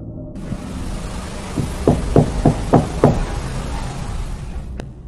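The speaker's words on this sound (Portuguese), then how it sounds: "constantemente escuta alguém bater na parede como se estivesse batendo na porta" A wall where a door was covered over and painted is knocked on five or six times in a quick, even sequence, sharp and fairly close, over a steady background hiss.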